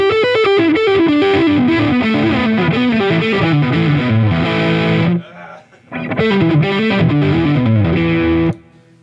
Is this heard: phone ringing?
no